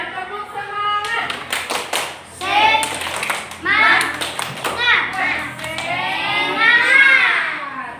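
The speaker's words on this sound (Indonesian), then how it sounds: "ayo semuanya tepuk semangat" Children join in a rhythmic spirit clap led by a teacher in a classroom, sharp hand claps and taps in quick patterned bursts mixed with lively young voices.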